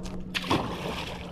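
A tailor fish released from a boat on Lake Macquarie drops back into the water with a brief, close splash, followed by light sloshing against the hull.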